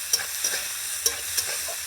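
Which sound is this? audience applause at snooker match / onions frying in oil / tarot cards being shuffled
onions frying in oil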